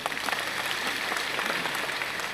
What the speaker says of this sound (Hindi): ताली भी बजा दीजिए एक बार।